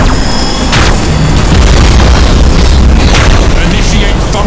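A Thunderhawk bombardment in the space strategy game Battlefleet Gothic Armada 2 gives loud, continuous rumbling explosions and booms, layered densely with muffled game voices.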